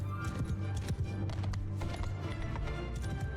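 Many hooves pound in a dense, continuous clatter as horse archers gallop together in Mount & Blade II: Bannerlord, steady and busy with a low rumbling bed beneath.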